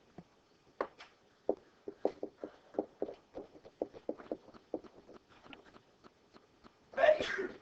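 A single sneeze, loud and close, breaks through near the end of a quiet classroom stretch. Soft footsteps and shuffling knocks come before it.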